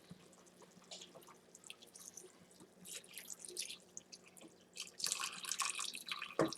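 Chicken stock is poured into a pan of paprika cream chicken, making a run of splashy, dripping liquid sounds that grow louder and busier toward the end, with no talking.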